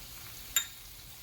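Ham croquette filling cooking in a pan with parsley and a splash of dry wine, a soft steady sizzle with one brief sharp click partway through; no talking.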